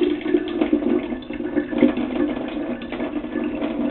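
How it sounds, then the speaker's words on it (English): Hot and cold household taps run together for felt-ball making, giving a steady, close rushing of water that holds a fairly even level throughout with no talk. "turn on your hot tap, leave it going slightly to warm up, and turn on your cold tap as well"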